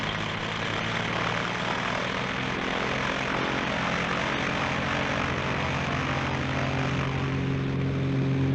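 A propeller airplane drones steadily overhead, its engine hum loud and continuous with a fixed low tone throughout, no voices present.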